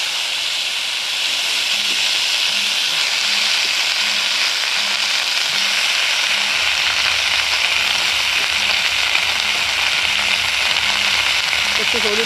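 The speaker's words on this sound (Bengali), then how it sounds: "শিম আলুগুলোকে একটু ভেজে নেব আগে।" Broad beans and potatoes fry in a hot wok (kadai), giving a loud, steady sizzle and hiss that runs unbroken throughout with faint low background rumble.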